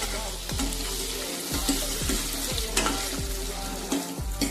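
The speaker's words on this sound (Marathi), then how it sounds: "त्यांना 5 ते 7 मिनिटे परतून घेऊया" Capsicum and onion sautéing in a hot pan for butter paneer masala, a steady loud sizzle broken by repeated stirring scrapes every half second or so, with no talking.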